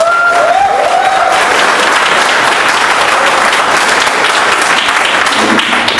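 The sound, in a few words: applause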